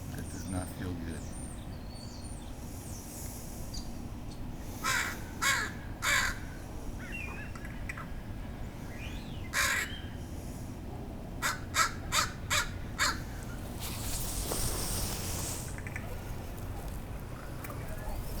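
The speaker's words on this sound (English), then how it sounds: "I have a crow." Pet crow cawing outdoors in Seattle, a series of short harsh caws in irregular bursts, fairly near, with someone talking and traffic-like background noise.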